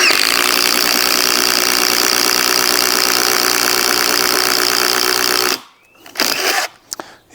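A Milwaukee cordless drill on a 4 amp-hour battery, set to speed 3, bores a 22 mm hole with a loud, steady grinding roar for several seconds, then cuts out, leaving a few brief knocks and rattles.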